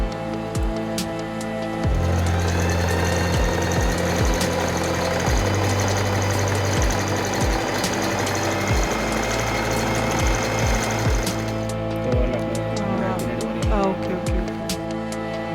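A Singer Heavy Duty 4423 sewing machine stitches with a fast, continuous mechanical chatter and regular thumps, running loud and close throughout.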